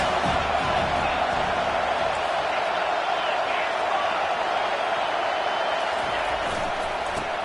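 Steady stadium crowd roar and cheering from a Madden football video game, a continuous broadband wash of noise with no clear breaks, with game commentary heard over it.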